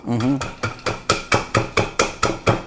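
Coffee cherries pounded by hand to hull out green coffee beans, about nine sharp evenly spaced thuds in a steady rhythm, with a brief voice at the start.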